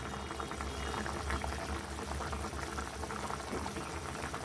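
Fish and potato curry bubbling at a steady boil in a covered pot, a continuous, faint liquid burble heard up close without any talking.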